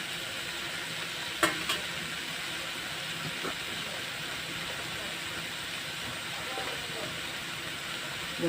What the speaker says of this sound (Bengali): পেঁয়াজ লঙ্কাটাকে একটু তেলে ভেজে নিচ্ছি, তারপরে ডাঁটা শাকটা দেবো।